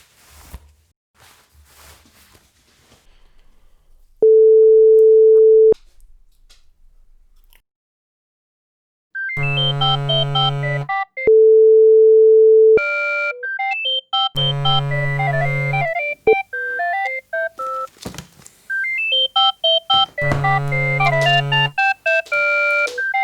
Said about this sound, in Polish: Czekaj, zadzwonię po chłopaków